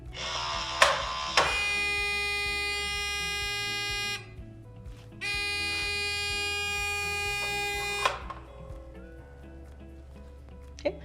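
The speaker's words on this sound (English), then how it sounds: "you can test your alarms with this alarm test button" Two long, loud electronic buzzing alarm tones from a MedReady medication dispenser's alarm test, each lasting about three seconds with a gap between, plus a few clicks and handling noises.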